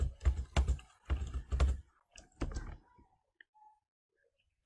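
Typing on a computer keyboard, a quick burst of close keystrokes in clustered groups, then a few faint isolated taps before silence.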